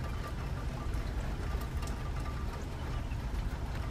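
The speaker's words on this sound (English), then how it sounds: "So we're getting used to the sounds and the smells of the rain" Much-needed rain falls on a farm, a faint, steady patter of drops on surfaces with a soft continuous hiss and no voices.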